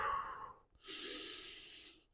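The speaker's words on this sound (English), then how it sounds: "Just take a couple inhales and exhales." A person breathes in and out during a warmup exercise, one short breath followed by a longer airy exhale, close and fairly soft.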